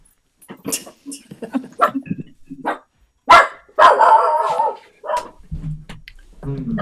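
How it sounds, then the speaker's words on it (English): A dog barks in short loud bursts, close by, mixed in with a person talking indoors. "Hold on, I have a dog."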